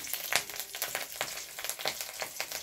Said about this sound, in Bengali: এবার আমি একটু কালো জিরে ফোড়ন দেব।